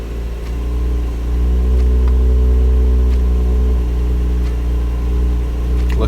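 A 2019 Porsche Macan S engine runs steadily after start-up, a loud low rumble holding even at idle with faint clicks over it and no talking.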